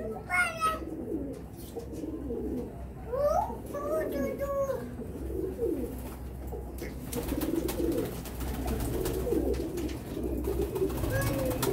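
Pigeons of a rare, fine-feathered breed coo softly and repeatedly close by, with scattered bird calls and a voice talking over them.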